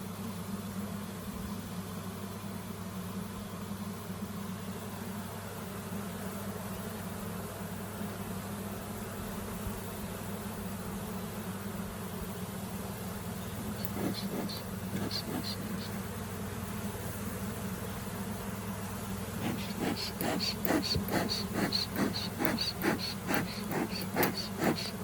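Bees buzz in a steady low drone around an opened Layens horizontal hive, with sharper, closer buzzing bursts as individual bees fly near, growing busier toward the end.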